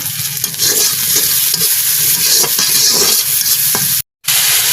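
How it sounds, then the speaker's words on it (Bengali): Bitter gourd fries in a small amount of oil with salt and turmeric, a close, steady sizzle with occasional stirring scrapes, cut off by a brief dropout near the end. "এই জন্য অল্প তেল দিয়ে করলা ভাজি করব আজকে।"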